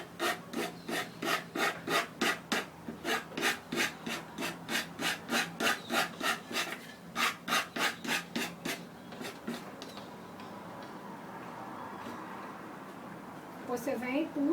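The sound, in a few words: sanding a decoupage piece with coarse sandpaper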